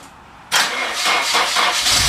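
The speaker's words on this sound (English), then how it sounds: "Let's see if this bitch starts up." A car engine started with a jump pack turns over after a quiet half second, then fires and runs loud and close with a steady, rough roar.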